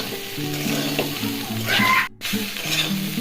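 Boiled soybean chunks with turmeric fry in a hot kadai, a loud continuous sizzle with scraping stirring close by and a faint low tonal whine running underneath.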